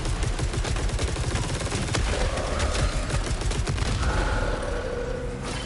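Rapid automatic gunfire from a turret in the video game Saros, a dense continuous burst of sharp shots that fills the whole stretch, loud and close, with a faint tonal whine rising under it partway through.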